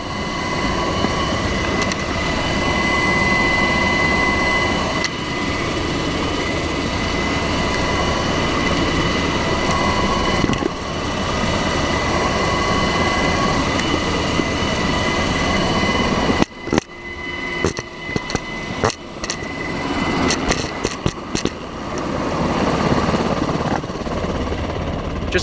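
Inside a Blackhawk helicopter in flight alongside C-130s, a loud, steady rotor and turbine roar fills the cabin and then breaks into choppier, uneven noise near the end.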